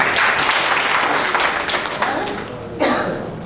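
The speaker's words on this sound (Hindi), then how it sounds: "जोरदार तालियों से इनका इस्तकबाल कीजिए।" An audience at a meeting in a hotel applauds to welcome an elderly guest, dense loud clapping that holds steady, then dips slightly before a brief swell near the end.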